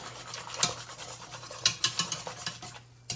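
A spoon scrapes and taps around a pot of boiling lilac jelly mixture, giving close, rhythmic stirring strokes with metallic clicks over a low bubbling hum.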